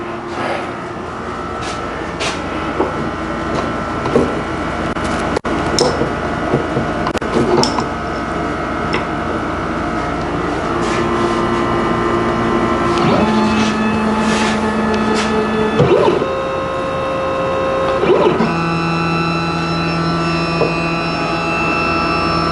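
A CNC machine carves a wooden trinket tray, its router whining and grinding steadily with shifting pitched tones as the cutter moves, close and continuous throughout.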